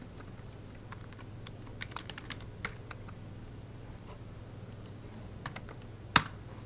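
Typing on a computer keyboard: quiet, irregular key taps in small bursts over a low steady hum, ending with one sharper, louder key strike near the end; no one speaks.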